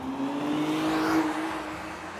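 A 2022 Acura NSX Type-S with carbon ceramic brakes runs on the Sonoma Raceway track, its engine a steady, droning tone that swells slightly and then eases, heard at moderate distance without speech.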